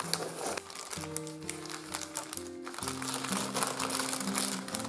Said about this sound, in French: J'ai reçu un colis que j'avais envie de déballer avec vous